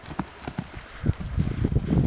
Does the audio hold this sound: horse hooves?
yes